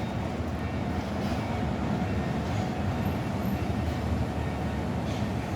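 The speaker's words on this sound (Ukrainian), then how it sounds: "Трамвай на вулиці Підвальній." A Lviv tram on Pidvalna Street rolls in along the rails with a loud, steady rumbling clatter of wheels and carriage that stays close and continuous throughout, with a faint hint of squeal.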